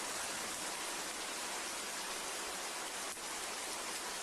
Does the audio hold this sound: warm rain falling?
yes